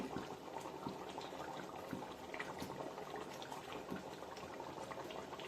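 A pot of mutton curry bubbles on the stove, a steady soft simmer with small pops and gurgles, heard alone and fairly faint.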